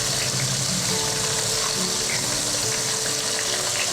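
Coated paneer popcorn bubbles and sizzles as it fries in hot oil, a steady, dense crackle that holds close and loud throughout with no talking.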